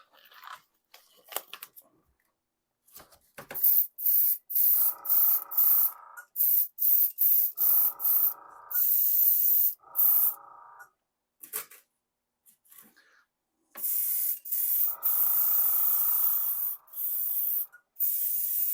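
Gaahleri airbrush spraying Vallejo primer at about 18 psi, a loud steady hiss in repeated bursts of one to three seconds separated by short pauses, with fainter clicks and handling noises between them.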